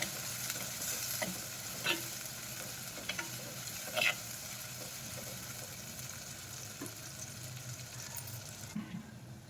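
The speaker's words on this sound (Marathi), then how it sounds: "कांदा थोडा लालसर रंगावर येईपर्यंत छान परतून घ्यायचा आहे." Onion with curry leaves and asafoetida is sautéed in a pan, producing a faint, steady sizzle with a few sharp clinks and scrapes of stirring scattered through it.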